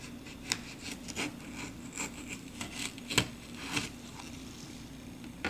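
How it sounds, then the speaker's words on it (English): Knife slicing open a Chocolate Scotch Bonnet pepper, faint close scraping and crisp cutting ticks in an irregular rhythm, quiet and alone. "I'll cut both of them open so you can see what it looks like inside."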